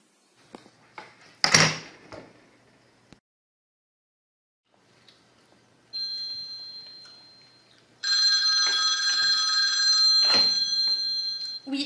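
A telephone in a French lycée office rings with steady, bright electronic tones in two stretches, the second louder and continuous, after a few earlier knocks and clatters.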